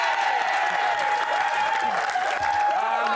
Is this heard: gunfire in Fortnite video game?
no